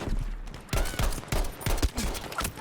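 Gunfire in the video game Battlefield V: a loud, dense run of shots arrives in several bursts about half a second apart, with booming low-end impacts. No voices are heard.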